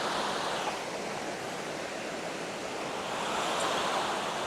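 Spearfish Falls in South Dakota pours steadily as a broad, continuous rush of falling water, close and loud, with no voices over it.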